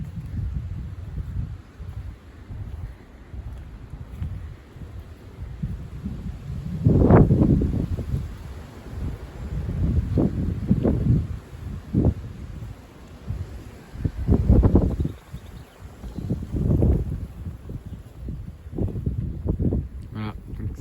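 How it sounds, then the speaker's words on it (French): A strong north-east bise wind on 1 April 2025 buffets the microphone in repeated heavy gusts, with low roaring rumbles and rustling between bursts, continuous and loud throughout. "ce coup de bise, ce coup de vent de nord-est du 1er avril 2025"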